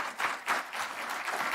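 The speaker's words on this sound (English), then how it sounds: "we can give them a round of applause now for their participation" Short round of audience applause for school superintendent candidates at a League of Women Voters forum, moderate clapping swelling in small waves.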